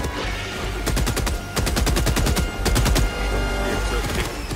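Turret machine gun in Helldivers 2 firing in several rapid bursts, loud and close, with short gaps between volleys over a busy background of game noise.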